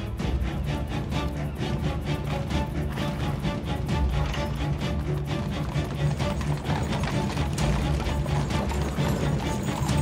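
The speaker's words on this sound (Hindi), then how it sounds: "बग्गी रवाना हो रही है" A horse-drawn carriage sets off with a dense, continuous clatter of hooves and rumbling wheels, loud and busy throughout with no pauses.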